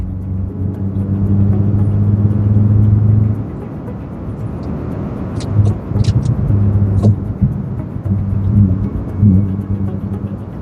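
A custom Honda City with a loud aftermarket exhaust drives at full throttle, its engine roaring steadily up close, dipping briefly as the pitch shifts, then surging again through the rest of the run.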